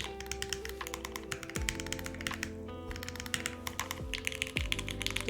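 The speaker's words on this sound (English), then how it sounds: "How does the numpad sound?" Rapid keystrokes on the numpad of a Fossil prototype mechanical keyboard, close and crisp, with uneven clusters of clacks and a few heavier thocks, without any talking.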